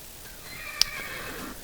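Horses whinny in the Minecraft Mo' Creatures mod, black horses in a stable giving soft, moderately near neighs with a sharp click partway through and no talking.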